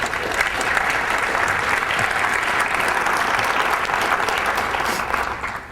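Audience applauding after a demo in a security conference talk at Ekoparty, steady dense clapping from a large crowd filling the room, sustained throughout before tapering slightly at the end.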